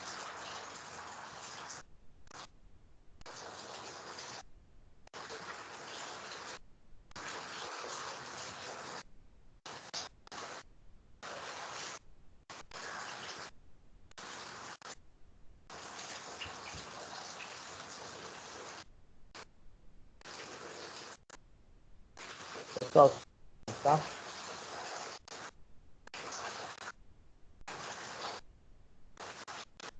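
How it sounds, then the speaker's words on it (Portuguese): Rain falls outside during a live computer class, a faint, steady hiss that is broken by frequent brief dropouts, with a short spoken remark partway through. "o barulho da chuva está incomodando aí para vocês?"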